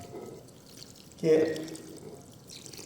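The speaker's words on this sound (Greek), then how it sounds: "Και μένει να προσθέσουμε και το νερό" A short splash of measured water poured into bread dough for prosforo, one brief burst of liquid in a quiet kitchen after a single spoken word.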